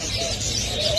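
Collared doves coo among a busy crowd at a Friday bird market in Baghdad, their soft calls brief and partly buried under steady market chatter and noise.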